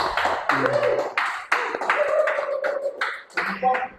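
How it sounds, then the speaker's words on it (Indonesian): Scattered hand claps from a small group at a podcast, bursting in short clusters between snatches of lively talk. "Tepuk tangan dong."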